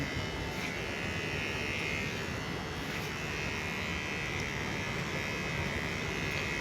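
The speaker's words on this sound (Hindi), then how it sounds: "जैसे जैसे मैं ट्रिमर व कंघी चला रहा हूँ" A steady electric hair trimmer buzz hums continuously and close while giving a zero haircut, unbroken throughout with no talking.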